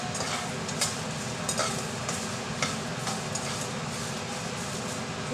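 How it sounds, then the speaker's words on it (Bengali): Chilies and spices dry-roasting in a dry pan, a steady dense crackle and rustle with a few sharper ticks as they're stirred, fairly close and even throughout, no talking. "শুকনো খোলাতে ভাজা হচ্ছে।"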